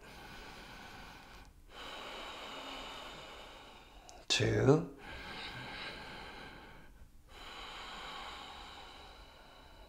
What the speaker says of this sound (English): Can you listen to your breathing?